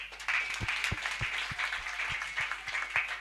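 A church congregation at a deliverance service claps in a steady rhythm, several sharp claps per second blending into lively, moderately distant applause.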